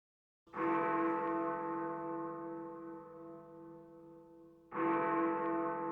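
Two tolls of a deep church bell in a music recording, each struck cleanly and ringing with a long, humming decay, the second arriving about four seconds after the first.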